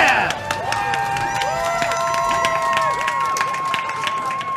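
A bar crowd at a live Super Mario speedrun session claps and cheers steadily throughout, a dense wash of applause with game music tones running over it.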